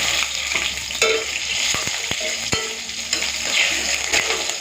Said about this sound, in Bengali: অল্প একটুখানি কালো জিরে ফোড়ন দিচ্ছি প্রথমে, সাথে 4টে মতো চেরা কাঁচা লঙ্কা মাথার কাছে কেটে দিয়েছি, দিয়ে দিলাম।